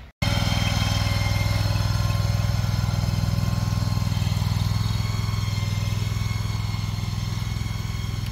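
A truck engine runs steadily and close while towing a shed on a small trailer up a narrow driveway, a loud continuous rumbling drone with no speech.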